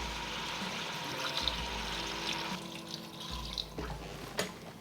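About one and a half cups of water pour steadily into a cooking pot for a creamy tuna pasta, a continuous splashing gush with slight surges, moderately close and heard alone.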